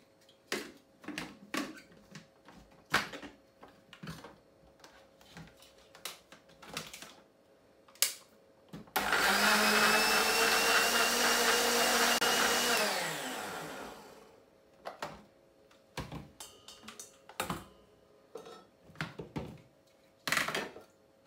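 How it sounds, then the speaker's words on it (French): A kitchen blender whirs through mint leaves and water in one loud, steady burst of about five seconds, starting abruptly and winding down. Scattered clicks and knocks come before and after it. "put into your blender and then add a little bit of water and then blend"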